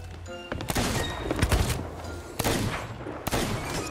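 Gunfire in the Sea of Thieves pirate game: a few sharp, loud shots spread across several seconds, separated by quieter stretches with faint background game noise.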